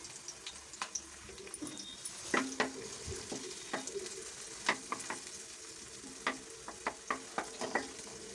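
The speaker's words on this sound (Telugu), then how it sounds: "4 స్పూన్లు నూనె వేసుకొని ఈ 2 ఉల్లిపాయలు ఒక 6-7 పచ్చిమిరపకాయలు వేసుకొని" Onions and green chillies frying in oil in a pan for a goat head and trotters curry, with a steady low sizzle broken by repeated sharp clicks and scrapes of a spoon stirring, close and without talk.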